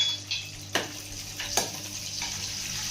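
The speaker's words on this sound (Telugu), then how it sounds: "ఆనియన్ కరివేపాకు ఎండుమిర్చి వెల్లుల్లి ఆవాలు వేసి బాగా ఫ్రై అవ్వనివ్వాలి" Onion, curry leaves, dried chillies, garlic and mustard seeds fry in hot oil for a tomato dal, giving a steady close sizzle with a few sharp stirring scrapes and pops.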